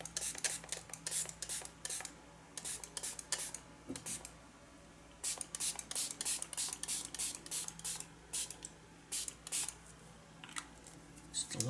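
Repeated bursts of a spray bottle misting watercolour paper, several quick hissing pumps in a row with short pauses between, close and fairly quiet against a low steady hum.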